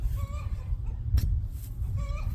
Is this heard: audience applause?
no